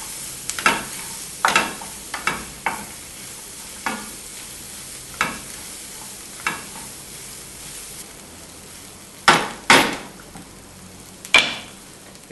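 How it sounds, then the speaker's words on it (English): Meat and onions frying in a pan and stirred with a utensil: a soft continuous sizzle broken by a dozen sharp scraping stirs at uneven intervals, close up, with no talking. "We will continue cooking until the onions are cooked and are almost transparent."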